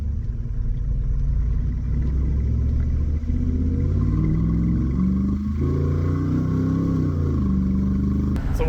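Car fitted with a new $6500 engine cruising steadily at about 55 mph, a continuous low engine drone and road rumble, loud and close, with a slight rise as the throttle is eased on.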